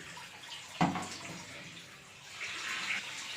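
A tap pours water into a large drum with a constant hollow gush, broken early by one sharp knock.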